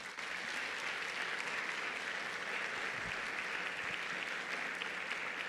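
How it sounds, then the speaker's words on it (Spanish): Congregation applauding during a Sunday sermon in a church; dense, steady clapping from a large crowd, sustained evenly for several seconds without pause. "Denle un aplauso al Rey."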